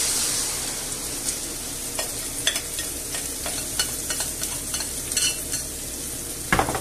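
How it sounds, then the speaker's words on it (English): Spicy Spanish omelette mixture sizzles hard in hot oil in a frying pan, a loud continuous hiss with scattered spatters and utensil clicks, and no talking. "I'm going to put that in the frying pan"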